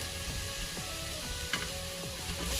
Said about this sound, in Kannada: ಈಗ ಸ್ವಲ್ಪ ಟೊಮೊಟೊ ಫ್ರೈ ಆಗಕ್ಕೆ ಬಿಡೋಣ.